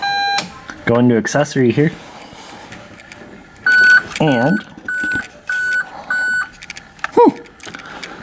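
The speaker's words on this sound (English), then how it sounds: "It beeps." Dashboard chimes in a Mazda RX-8 as the key is turned to accessory, a series of five short steady electronic beeps with brief gaps, with someone talking nearby before and between them.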